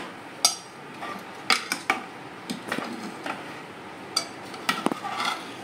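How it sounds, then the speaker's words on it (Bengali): A spoon stirs tempered dal in a metal pot, giving irregular clinks and scrapes against the sides with short pauses between strokes, fairly close, with no talk. "ডালের মধ্যে সব কিছু দিয়ে দিয়েছি আমি, এবার এটাকে একটু মিশিয়ে নেব"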